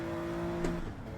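A car engine in Gran Turismo 7 holds a steady, high-pitched rev near the limit during a start-and-stop licence test, fairly quiet, then drops away at the end.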